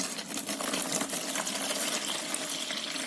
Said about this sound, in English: So now I'm adding more water so that I get a thinner paper.